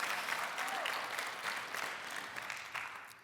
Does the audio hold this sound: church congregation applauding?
yes